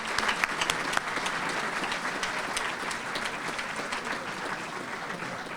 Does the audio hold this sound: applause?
yes